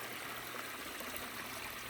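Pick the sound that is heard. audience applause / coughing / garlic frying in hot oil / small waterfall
small waterfall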